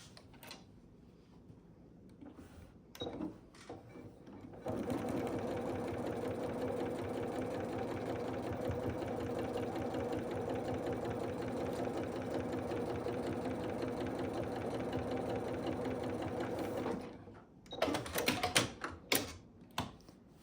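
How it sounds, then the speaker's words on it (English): A sewing machine stitches a full quilt seam from top to bottom, running in one long steady whirring drone of about twelve seconds, framed by softer clicks and handling bumps before and after. "we are going to sew that complete seam, okay, all the way from the top to the bottom"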